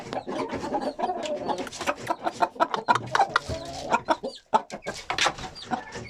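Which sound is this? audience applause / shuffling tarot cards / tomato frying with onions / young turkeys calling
young turkeys calling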